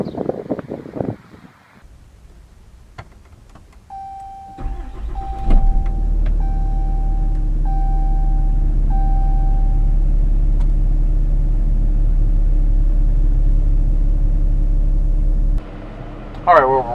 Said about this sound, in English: today we're going to take a quick test drive video in this 2013 Ram